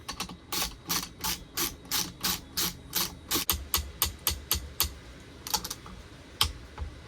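Torque wrench tightening stainless exhaust bolts on a Kawasaki Ultra 310 jet ski, giving a rapid series of sharp close clicks in quick bursts, some doubled, with no talk.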